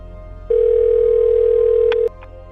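A steady telephone dial tone on a working landline at a house, starting abruptly after a moment of low hum, holding evenly, then cutting off, with a couple of brief clicks near the end.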